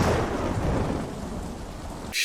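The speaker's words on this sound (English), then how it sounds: "That is a violent lightning strike right there." A violent lightning strike and rolling thunder in the animated film The Dark Knight Returns Part 1, a loud crack fading into a long rumble over heavy rain, cut off by a sudden bright noise at the end.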